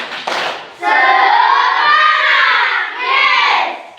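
Fourth-grade Indonesian pupils do the tepuk semangat chant: a few quick claps, then a sustained loud unison shout from many children's voices nearby.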